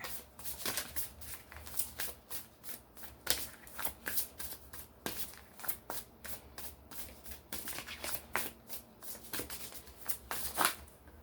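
Tarot cards being shuffled by hand, close and clear, in rapid repeated riffles and slaps with short pauses between bursts.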